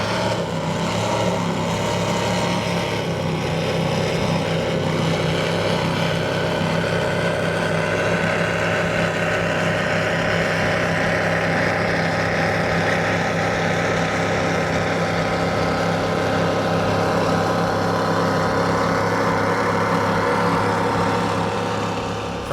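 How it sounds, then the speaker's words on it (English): Mercury Racing 700 engines on a powerboat during a Tampa Bay poker run roar loudly and steadily throughout, a continuous close engine drone with no speech over it. "Let's listen to these Mercury Racing 700s."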